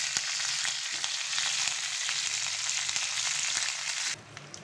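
Tempering for rasam of fenugreek, cumin, mustard seeds, urad dal and curry leaves sizzling hard in hot oil, a loud continuous crackle with scattered pops, dropping off sharply just before the end.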